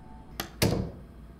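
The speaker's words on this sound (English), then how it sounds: "The sound of the door closing echoes in the room" In a video game, a door closes with a light click followed by a heavier, close thud that lingers briefly in the room.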